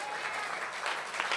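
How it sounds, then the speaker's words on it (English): A congregation at a Kol Nidre service applauds itself at the end of the evening: a brief, full round of clapping from many people that stays thick and even, with a few louder claps near the end. "give yourselves a round of applause."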